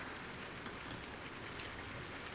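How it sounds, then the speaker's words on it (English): Rain falls steadily in a 1932 drama film, a constant hissing patter with faint crackles from old film noise and no voices. "It's this rain, I guess."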